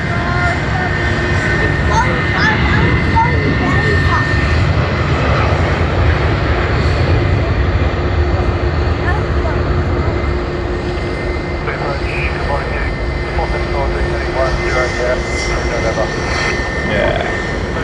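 A Singapore Airlines jet airliner arriving at Sydney Airport, its engines a steady, loud broadband roar that holds for the whole span, with a faint babble of voices in the background.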